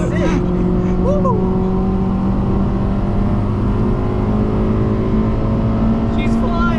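A 2008 Honda Civic Si with a K20 engine drones loudly and steadily from inside the cabin, holding a high, even pitch with no clear climb, while voices call out over it.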